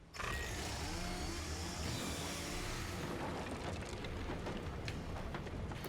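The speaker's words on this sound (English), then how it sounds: "Ah, the chainsaw." Chainsaw in the video game Alan Wake Remastered, a loud, steady engine drone that holds at near-constant level for the whole stretch with a rough, buzzing mechanical texture.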